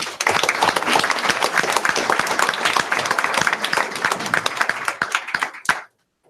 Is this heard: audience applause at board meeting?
yes